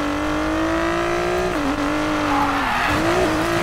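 A Nissan GT-R R32 drifts in the Need for Speed Payback racing game, its engine holding a loud, steady whine while tires squeal continuously, with pitch dips as the car slides and recovers.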